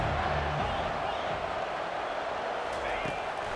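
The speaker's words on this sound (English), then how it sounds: "here comes the noise. This crowd is trying to inspire this defense to make a big red zone stop" Stadium crowd roar in College Football 25 during a red zone stand, a broad steady wall of fan noise filling the whole clip at even loudness, with commentary-like voices faintly underneath.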